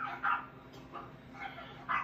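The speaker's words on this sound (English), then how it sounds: "You hear the dogs? They're trying to drown you out" Dogs barking in short bursts, three clear barks spaced across about two seconds, moderately close with faint background noise and no talk over them.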